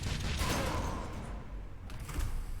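Explosions in the sci-fi action game Valfaris, a dense, continuous rumbling roar of blasts and crackling debris with brief swells, loud and close with no talk.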